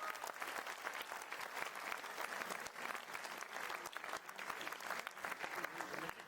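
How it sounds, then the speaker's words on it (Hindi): An audience at a mushaira poetry recital held at IIT Jammu breaks into sustained applause, a continuous rattle of many hands clapping at a moderate, fairly distant level throughout. "एक बार अपने लिए तालियां बजा दीजिए प्लीज"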